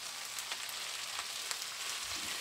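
Onion frying in a pan while Italian chili beef is prepared gives a steady, close, dense sizzle with faint crackles throughout and no talking.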